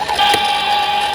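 In express train mode, a toy railway crossing set plays its electronic passing sound, a steady mid-pitched tonal drone with a faint rattling edge. It lasts just over a second at moderate loudness, with no voices.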